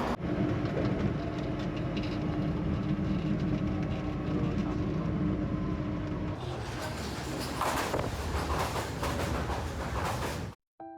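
A Hong Kong MTR metro train near Kwun Tong rumbles past with a loud, steady roar that shifts midway, then cuts off abruptly near the end.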